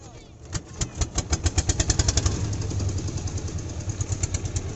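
A small motorboat engine on a river chugs in a steady rapid rhythm, building up over the first seconds and then running evenly, fairly close, with no talking.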